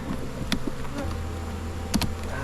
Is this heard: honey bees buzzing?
yes